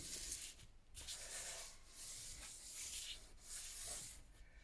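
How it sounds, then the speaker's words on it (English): A hand rubbing paper onto a Gelli printing plate, making a faint, soft, continuous brushing and swishing that swells and eases in repeated strokes; no voices. "with a clean bit of my hand, I'll rub it on"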